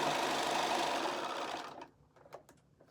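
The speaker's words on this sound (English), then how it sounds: "you're going to stitch a 1/4 inch" Sewing machine running fast while stitching a quarter-inch seam on a charm pack quilt block, a close, steady whir that stops after about two seconds, followed by a few light handling clicks.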